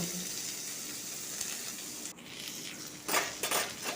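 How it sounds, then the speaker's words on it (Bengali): Potato, pumpkin and eggplant sauté in hot oil in a wok, giving a steady, close sizzle that swells with louder spattering and a little stirring clatter near the end. "এর মধ্যে একা একে আলু কুমড়ো বেগুনগুলো দিয়ে একটু কষিয়ে নেব"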